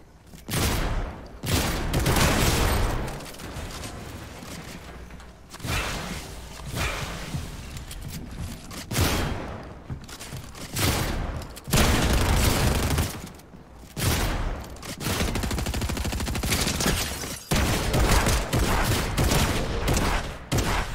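Gunfire in the video game Fortnite, repeated loud bursts of rapid shots and single blasts separated by short pauses across a hectic firefight, with no talking.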